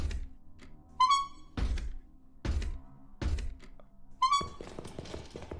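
Heavy thunks of a door slamming shut in a FNAF-inspired VR horror game, several loud low knocks spaced about a second apart with short electronic tones between them and no talk.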